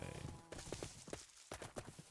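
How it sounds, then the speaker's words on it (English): Horse hooves clip-clopping in the Minecraft video game, a series of light, evenly spaced hoof knocks in a quick trotting rhythm, close and moderately loud over a faint game background. "I'm on my horse."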